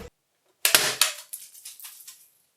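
A toy pistol fires with a sharp crack, then a burst of splattering hits and scattered patters taper off over about two seconds, close and fairly loud with no voices.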